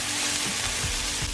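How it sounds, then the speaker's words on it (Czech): Chopped onion sizzles steadily in hot oil in a frying pan at home, a dense continuous hiss with faint crackles and no talking. "Tady už jsem rozehřívá pánev a olej. Už se to smaží."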